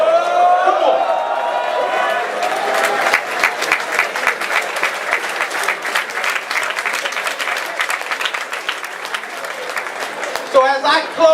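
An audience at a gospel concert at Fort Benning breaks into sustained applause, dense clapping with scattered cheers and voices mixed in, swelling slightly near the end.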